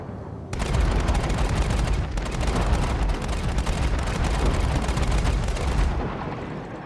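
Staggered cannons firing in a video game's atmosphere, a dense, continuous barrage of rapid booming shots that starts abruptly, breaks for a moment, then rolls on loud and close before tapering off.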